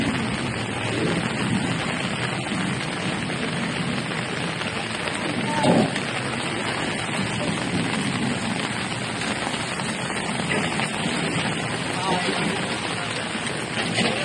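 Heavy rain over the washed-out Mumbai–Ahmedabad highway, a dense, continuous hiss of rain on the road surface lasting throughout at an even loudness, with a brief low swell midway.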